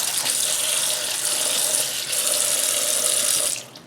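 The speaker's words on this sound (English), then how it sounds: "And then just lightly rinse them off." Thawed scallops are rinsed under a running kitchen tap, a steady rush of water splashing for several seconds before it cuts off near the end.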